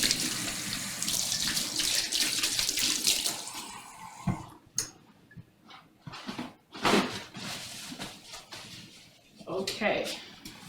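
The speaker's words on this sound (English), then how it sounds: "Wash my hands." Kitchen tap water runs steadily for a few seconds while hands are washed, then cuts off, followed by scattered clatter and handling sounds nearby.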